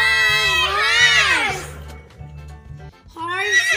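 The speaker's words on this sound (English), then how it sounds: "H for horse" A horse gives a loud, close whinny that quavers and falls in pitch, then a second shorter neigh follows after a brief lull, over a low rhythmic background beat.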